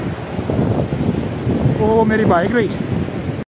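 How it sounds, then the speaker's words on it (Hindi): Water flows from a roadside mountain spring at 7 Up Chashma near Mastooj, a steady broadband rushing wash heard close and fairly loud, with someone speaking briefly over it. "पानी का क्या कमाल का साउंड है"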